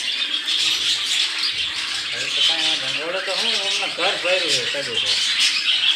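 Colourful small caged birds at a Mahakali temple squawk and chirp in bursts, close by, with a person talking over the calls.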